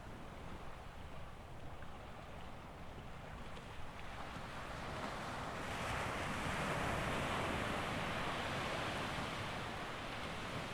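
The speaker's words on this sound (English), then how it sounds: "The water gently lapping at the shore" Gentle sea waves lapping at the shore, a soft continuous wash of surf that swells a little louder partway through, mixed with light wind noise and no voices.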